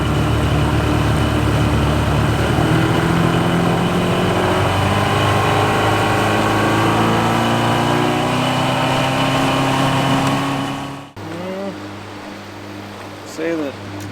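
An old outboard motor on a 16-foot jon boat, freshly run with Seafoam after a carburetor cleaning and unused for five years, drones loudly and steadily at close range for about eleven seconds before cutting out abruptly.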